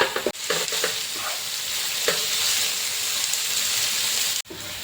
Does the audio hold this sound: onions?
yes